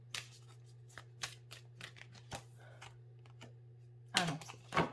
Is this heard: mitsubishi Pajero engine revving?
no